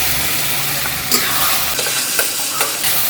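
Ground masala gravy is added to a hot pan for a Chettinad paneer gravy and is stirred, making a soft hiss and sizzle with a few sharp scrapes and clinks of a spoon against the pan. Nobody speaks.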